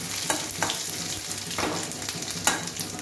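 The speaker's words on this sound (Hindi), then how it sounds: "अब उसी तेल में हम डाल देंगे जीरा, और डाल देंगे इसमें लहसुन कटा हुआ, थोड़ा सा भुनेंगे हल्का सा।" Cumin seeds and chopped garlic sizzle in hot oil, a close, bright crackle with a few sharp spatters and stirring scrapes over three seconds.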